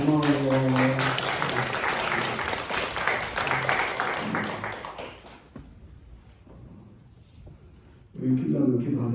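A church congregation breaks into applause, a dense patter of clapping that starts under a speaking voice, fades out over several seconds, and then gives way to talk again.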